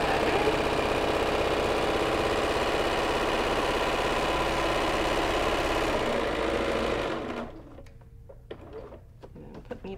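A sewing machine runs steadily on a tote bag seam with a fast, even mechanical whir for about seven seconds, then stops, leaving scattered small clicks and handling sounds.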